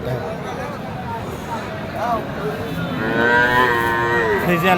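Friesian breed bull cattle at the Hasukhali cattle market in Dhunat, Bogura, with a loud, drawn-out moo rising over steady crowd chatter and nearby talking voices.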